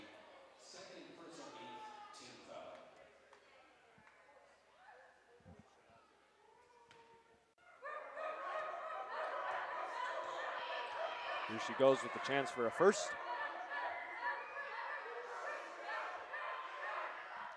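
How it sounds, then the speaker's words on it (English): Dogs bark audibly in a gym during a girls' high school basketball game, short yaps heard amid crowd noise and squeaks while a commentator talks over the action. "Still the barking coming out."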